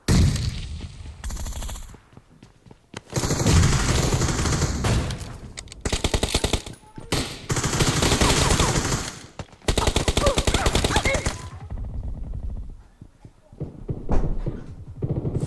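Gunfire in the PUBG video game: long bursts of rapid automatic fire alternating with short pauses, loud and close throughout, with occasional single shots.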